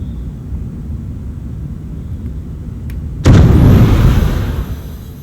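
Spaceship afterburner in a Star Trek-themed video game: a steady low engine rumble suddenly erupts into a loud roaring blast partway through, then slowly tapers off.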